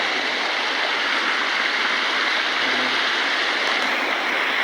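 Rainwater rushes over a broken road beside flooded paddy fields after heavy rain, a steady, dense, close gushing flow with no talking.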